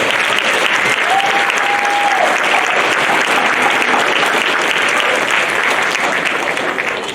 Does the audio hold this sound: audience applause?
yes